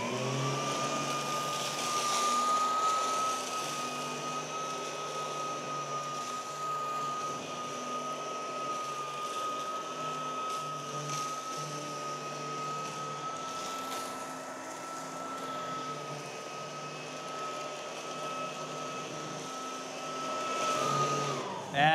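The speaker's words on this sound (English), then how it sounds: "Now, we've got the PowerBot in lane one. I'll go ahead and start that. Competition in lane two. And I'm gonna vacuum with the old upright." A Samsung POWERbot robot vacuum and an old upright vacuum cleaner run together at once, giving a steady close whine and roar that holds without a break.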